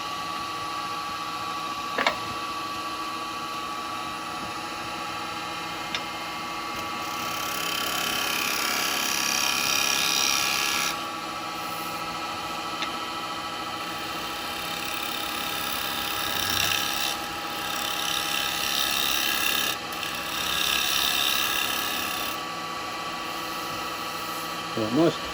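A maple tea light holder spins on a wood lathe while a tool shapes it, with hissing, rasping cutting passes that come and go over a steady mechanical hum and occasional voice.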